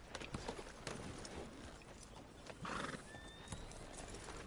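A horse in the Red Dead Redemption 2 video game whinnies briefly amid steady background game noise and hoof sounds, with no clear talk.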